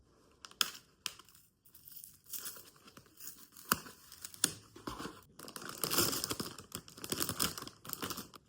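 A bag of chips is torn open and crinkled close by in a quiet room, giving scattered sharp rips and crackles in irregular bursts with short pauses.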